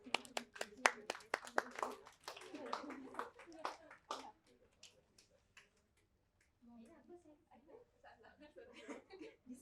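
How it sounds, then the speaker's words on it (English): Workshop audience clapping in an indoor room, a brief burst of applause with scattered claps that thins out after a few seconds, followed by quieter sounds and a voice starting to speak. "Please give him a round of applause."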